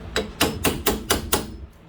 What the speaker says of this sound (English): Go ahead and tap this out. I think I brought my short hammer.